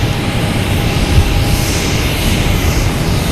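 Spirit jet airliner pushing back from the gate at Boston Logan Airport, a steady broadband engine roar and hum, fairly loud and continuous with no talking.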